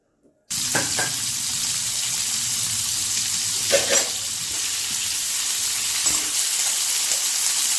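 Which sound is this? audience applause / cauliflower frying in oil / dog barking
cauliflower frying in oil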